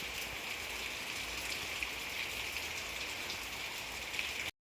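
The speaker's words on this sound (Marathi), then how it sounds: "हा पाऊस महिनाभर कंटिन्यू आहे" Monsoon rain falls in a steady, even hiss, a constant wash of drops on surfaces heard at moderate distance with no voices, ending abruptly.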